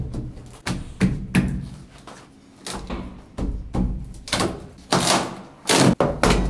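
An old original cellar door in an apartment building is pried open with an ordinary screwdriver, giving a series of sharp knocks, thuds and creaks in irregular bursts, close and fairly loud.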